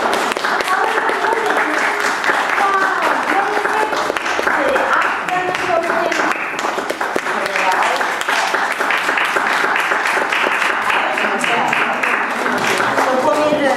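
An audience at a children's ballet recital applauds in a loud, continuous wash of clapping, with voices cheering and talking mixed in over the whole stretch.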